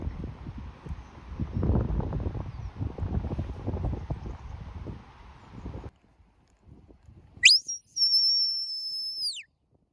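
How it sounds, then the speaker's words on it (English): After a stretch of rustling wind noise and silence, a shepherd's whistle command to a sheepdog sounds: a short sharp chirp followed by a long, steady, high-pitched two-tone blast. "So those are the 4 basic whistle commands, and we'll see them in action as well."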